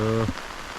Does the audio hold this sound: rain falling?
yes